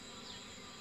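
Honey bees drone around a hive frame at an apiary in Port Dickson, a dense continuous buzz close to the ear with no talk over it.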